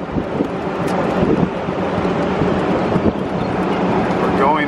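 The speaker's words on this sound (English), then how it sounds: "67 degrees, 40-mile-an-hour winds" Strong wind of about 40 miles per hour at sunset in northwest Kansas roars steadily across the microphone, a dense, continuous rumble with small gusty surges and no voices.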